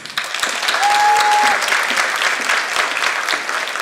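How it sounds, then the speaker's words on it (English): An awards banquet audience gives resident assistants a round of applause. The clapping is loud and close, with a quick swell at the start and a steady level through its short span. "I want to give them a round of applause"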